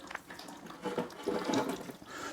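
Water flowing down into a bucket in a custom loop setup: a short, continuous splashing trickle that swells slightly toward the middle, close and moderately loud, with no talking.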